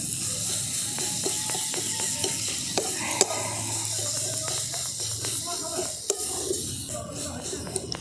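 Gujiya filling with milk powder being stirred in a pan, a steady scraping and soft sizzle running throughout with occasional sharper clinks of the spoon against the pan.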